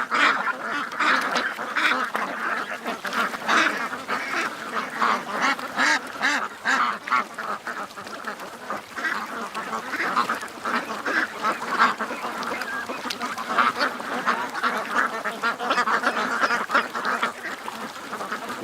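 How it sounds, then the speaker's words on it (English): Ducks quack steadily on a lake, a busy overlapping chorus of many birds at moderate distance, with the odd goose honk mixed in and no talking. "I think they're probably the rebel ducks."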